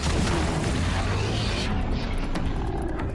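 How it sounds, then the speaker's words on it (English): An explosion in the video game Horizon Zero Dawn, a dense booming roar that stays loud and sustained throughout, with no talk over it. "That was a bit too close to the explosion."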